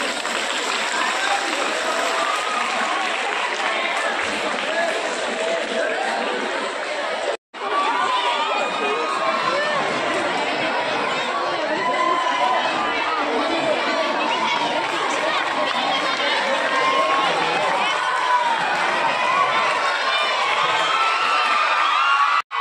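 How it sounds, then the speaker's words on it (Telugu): An audience at a school farewell meeting claps and cheers with sustained, dense applause mixed with children's shouts and crowd chatter, loud and continuous apart from one brief break. "చప్పట్లు కొడుతూనే ఉండండి."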